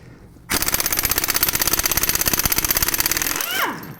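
An impact wrench removing wheel nuts from a Kia Soul during a brake job, firing one loud, rapid hammering burst for about three seconds that then winds down as it spins free, close by.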